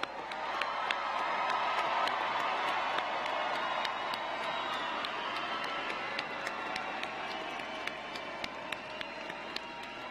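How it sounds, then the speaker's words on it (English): Family members at a Florida International University commencement ceremony cheer and applaud their graduates, a sustained crowd roar in a large hall with crisp claps popping out above it. "Family members, one more round of applause for your graduates."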